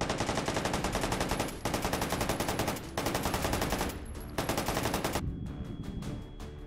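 Rapid sustained automatic fire from a 9x19 firearm in the VR shooting game H3VR, loud and close, in long bursts with brief pauses between strings of shots.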